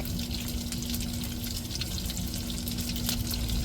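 Steady, dense crackling and sizzling of dried anchovies frying in hot oil, close and continuous, with scattered sharper pops throughout.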